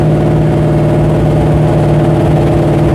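A big-block V8 in a 1968 Dodge Charger idles up close, a loud, steady low rumble with a regular throbbing pulse and no revving.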